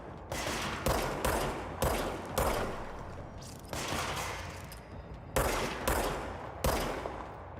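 Enemy gunfire in the game Control comes in several close, loud automatic bursts separated by short gaps, with dense sharp reports that fade briefly between volleys.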